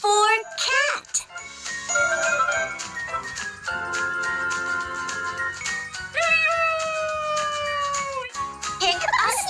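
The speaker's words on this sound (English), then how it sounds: "C is for cat." A cat meows in short, expressive calls with sliding pitch, mixed with chiming jingles and a voice in a bright, close recording.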